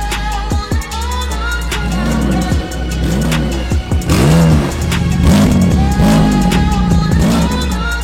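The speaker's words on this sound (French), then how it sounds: "j'ai à peine accéléré, je me suis retrouvé, je sais pas, à plus de 260 en quelques secondes" A Manhart TR 900, a car of roughly 945 horsepower, accelerates hard with a loud, close engine roar that climbs repeatedly through the revs, broken by brief dips at each gear change, with no talking.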